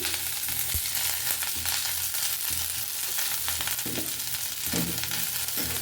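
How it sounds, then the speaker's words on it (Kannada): Okra fries in oil in a pan for a tangy gravy, producing a dense, even sizzle that stays loud throughout, with small crackles and occasional stirring sounds and no speech. "ನಾನು ಇದಕ್ಕೆ ಸ್ವಲ್ಪ ಎಣ್ಣೆ ಹಾಕಿ ಹುರ್ಕೊಳ್ತೀನಿ"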